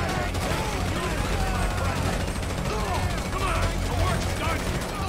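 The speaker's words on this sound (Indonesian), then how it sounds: "gue nembakin tiang" Rapid, continuous gunfire from a GTA V shootout aimed at a pole crackles loudly and steadily throughout, with voices talking over the barrage.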